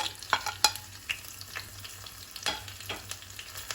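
Red chili, green chili and kasuri methi tempering in hot oil, a steady soft sizzle with scattered crackles and pops, stirred at close range with no voices.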